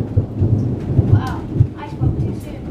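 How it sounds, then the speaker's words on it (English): Thunder-like rumbling booms during a bottle rocket display in Florida, loud low pulses repeating irregularly with a crackling hiss over them. "Bring on the thunder!"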